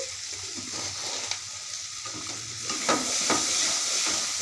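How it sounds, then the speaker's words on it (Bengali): Spices and turmeric are stirred in a pan with a soft scraping and gentle sizzle, quiet and close, with brief knocks of the spoon against the pan. "এটা ভালো করে নেড়ে নিচ্ছি"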